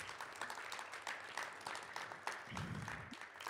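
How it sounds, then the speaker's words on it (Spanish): A church congregation claps together in thanks for the offerings and tithes, producing a steady wash of hand claps with small surges throughout. "damos un aplauso al Señor por las ofrendas"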